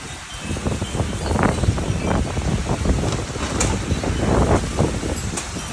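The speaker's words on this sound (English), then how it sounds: "A little windy." Gusty wind buffets the microphone outdoors at an owner-built pool site in Arizona, a continuous rumbling roar with irregular swells and no talk.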